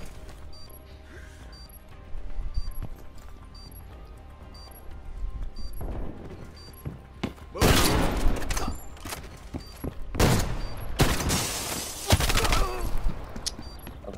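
Shotgun blasts in an arcade shooter match on a drive-in map, several loud separate booms spaced a second or two apart over quieter game ambience with beeping tones, and a voice talking in the background.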